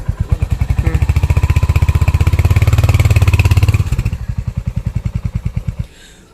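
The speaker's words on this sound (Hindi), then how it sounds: "तब आपका बाइक जो है ये आपको आगे जाने के लिए स्टार्ट रेडी हो जाएगा और बाइक धीरे धीरे आगे जाना शुरू हो जाएगा।" A Royal Enfield Hunter 350 single-cylinder motorcycle engine thumps in a steady, loud, close rhythm as the bike begins to roll, rising slightly in pace before easing to a slower, quieter beat, with no talking.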